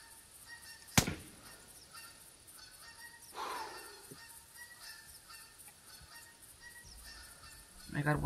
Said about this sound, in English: There are some goose over here.